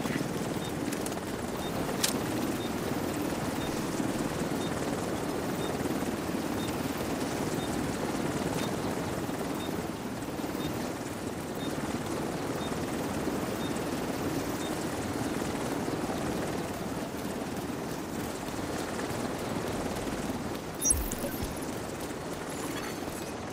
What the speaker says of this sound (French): L'hélico rentre à la base.